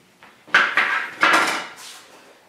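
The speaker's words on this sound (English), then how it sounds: "Now I'm just going to slice the orange and juice it." A knife slices an orange on a board, giving three or four sharp cutting knocks and scrapes followed by a softer trailing scrape, close and fairly loud with no talking.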